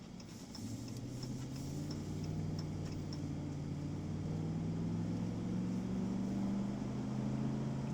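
A 2019 RAM 1500 pickup truck on the move, its engine and road noise forming a steady, loud low drone that holds evenly for the whole stretch with no voices over it.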